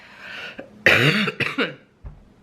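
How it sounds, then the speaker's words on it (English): A person coughs several times in quick rough bursts, close to the microphone, with a short pause before a final cough. "I do apologize for the coughing."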